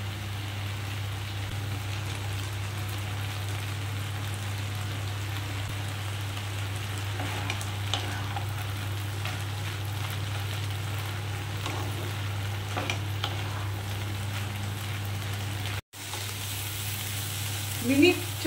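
Corn kernels sizzle and fry in a pan over high heat while being stirred, a steady crackling hiss that carries on evenly with a low hum beneath and occasional scraping of the spoon.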